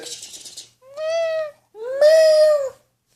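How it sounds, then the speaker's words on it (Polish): A cat meows twice up close, two drawn-out whining calls, the second louder and longer, after a brief rustle. "on miałczy, bo to kot."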